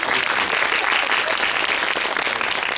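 Audience applause fills a cinema auditorium during a guest visit talk at a film screening, a dense, steady clapping from a large crowd throughout.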